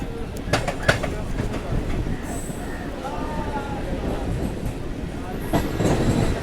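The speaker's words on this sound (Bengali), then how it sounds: "ব্রিজের নিচ দিয়ে যে আমাদের ট্রেনটা যাচ্ছে এটা হচ্ছে হাওড়া বর্ধমান ফর লাইন" A local train runs under a bridge on the Howrah–Barddhaman chord line near Shaktigarh, a continuous rumble of wheels and carriages with faint squeals, heard close with a voice speaking over it.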